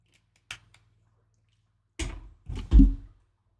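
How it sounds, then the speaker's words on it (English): Someone drinking water, with a faint sip followed by a cluster of gulping, swallowing noises close by in a quiet room. "I'm gonna take another drink of water."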